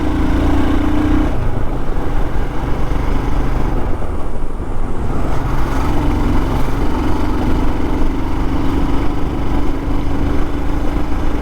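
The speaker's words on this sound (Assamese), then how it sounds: "এইটো ৰাস্তাত আহিলে মানে সেই বাইক চলাই গৈয়ে থাকিব মন যায়" Motorbike riding along a hilly, tree-lined road in Meghalaya near Guwahati, its engine a steady low drone with continuous wind rush throughout, close and loud, no talking.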